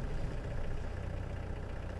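A safari vehicle's engine idles steadily throughout, a continuous low rumble heard close up with no talk over it.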